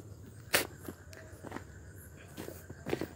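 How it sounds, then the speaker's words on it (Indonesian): Footsteps inside a house at night, a few separate soft thuds spaced irregularly, one sharper step early, heard fairly near in a quiet room. "Ada suara langkah kaki di dalam."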